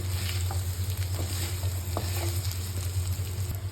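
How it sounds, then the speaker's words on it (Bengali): Mutton and onions fry together in a pan, a dense, steady sizzle with occasional pops and stirring scrapes, close and continuous. "তো আপনারা দেখতেই পাচ্ছেন কি সুন্দরভাবে পেঁয়াজ আর মটনটা একসাথে ভুনা হচ্ছে।"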